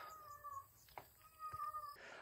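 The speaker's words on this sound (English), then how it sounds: "Oh, that cat is so loud." A loud domestic cat, apparently a male calling for a mate, lets out two long drawn meows close by in a garden, with faint background noise between the calls.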